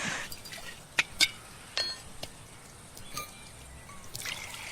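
Sharbat being made at home: water trickles while a spoon or glass gives several sharp, close clinks at irregular moments against a quiet background.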